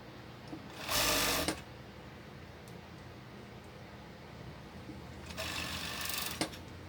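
Sewing machine stitching a croptop seam, with two bursts of fast, steady needle whirring, one near the start and a longer one near the end, over a quiet room hum.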